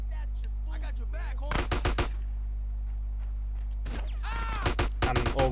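AK rifle fire in GTA San Andreas, two loud bursts of rapid automatic shots about two seconds apart, the second longer and broken into short volleys, over a steady low game hum with faint talk before.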